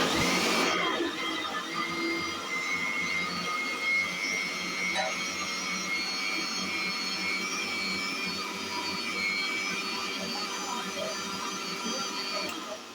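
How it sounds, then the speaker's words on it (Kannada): A kitchen mixer grinder churns milk cream with a spoonful of curd to make butter, starting abruptly and then holding a loud, steady whirring motor drone for the rest of the clip. "ಇದಕ್ಕೆ 1 ಸ್ಪೂನ್ ಮೊಸರು ಹಾಕಿ ಹಾಗೆ ಗ್ರೈಂಡ್ ಮಾಡ್ಕೊಳ್ತಿದ್ದೀನಿ"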